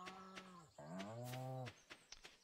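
Two close, clear cow moos in Stardew Valley, one short and one longer and deeper, followed by a few faint clicks.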